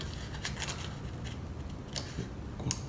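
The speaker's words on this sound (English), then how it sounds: "Slide our scissors in and cut in this way, and then come down this way for the cut." Scissors snipping through paper for a scrapbook layout, a series of short crisp cuts in bursts, close and fairly quiet over a low steady background hum.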